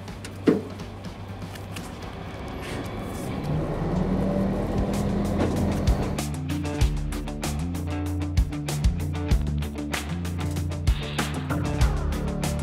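Road vehicle driving near a garbage truck on an early-morning refuse collection run in Poland, a steady engine rumble that rises as it moves off, with repeated knocks and clatters over it, close and loud.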